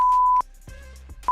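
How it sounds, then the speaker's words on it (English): Three sharp censor beeps over swearing during a live holiday stream for field hockey umpires, a long steady tone then two short ones, loud and alone between brief gaps with faint background murmur. "I should be beeping myself out."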